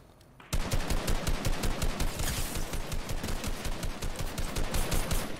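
Rapid automatic gunfire fills a video game match after a brief quiet moment, a loud, dense burst of sharp shots repeating in a fast, steady rhythm for several seconds.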